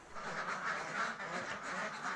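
Ducks kept in an enclosed farm pen quack continuously, a faint but dense overlapping chatter from many birds at a moderate distance, with no voices over it.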